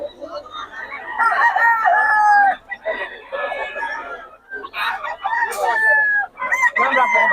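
Several roosters crow one after another at close range, loud drawn-out calls overlapping with clucking and a few voices talking.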